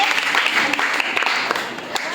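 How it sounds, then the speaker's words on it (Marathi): A classroom of schoolchildren at a village primary school applauds a quiz contestant, producing a dense, fairly loud burst of clapping that fades slightly toward the end. "आदित्यसाठी सगळ्यांनी टाळ्या वाचायचा"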